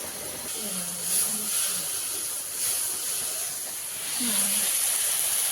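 Slit green chilies and ginger-garlic paste sizzle in hot oil for a prawn biryani, a steady bright hiss that swells and eases over several seconds, with a faint voice murmuring low underneath.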